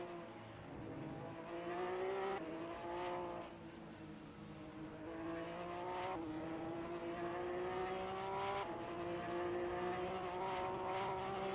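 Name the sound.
race cars driving at Oulton Park, sim racing video game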